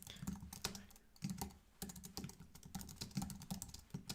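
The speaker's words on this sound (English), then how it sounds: "I'm typing it out." Fingers type quickly on a computer keyboard during a live day-trading session, with close, crisp key clicks falling in irregular bursts and short pauses, and no voices.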